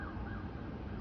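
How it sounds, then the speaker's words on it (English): Emergency vehicle siren wailing steadily through a dense wash of road noise, heard from a moving vehicle with no talk over it. "And there's another siren."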